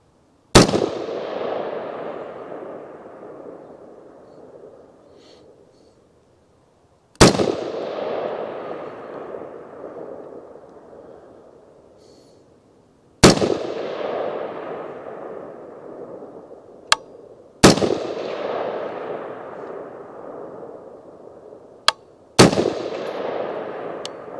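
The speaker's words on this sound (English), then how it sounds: "So I'm gonna do a 5-round group starting with the lower left out there on that target." An AR-15 rifle fitted with a Sylvan Arms Gen 4 folding adapter fires five spaced shots at an outdoor target. Each loud, sharp crack rolls off into a long fading echo, with a few faint clicks between shots.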